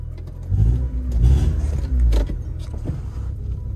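A Honda Civic EK coupe on its first drive after a head gasket job, engine running rough with a low uneven rumble that swells twice then settles into a steadier idle, heard from inside the car.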